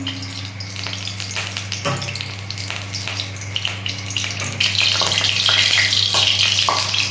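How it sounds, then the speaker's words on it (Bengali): Potatoes frying in hot oil in a heated kadai, sizzling steadily and close throughout, growing a little louder and busier toward the end. "আমি তেল দিচ্ছি আলুটা ভেজে নেওয়ার জন্য।"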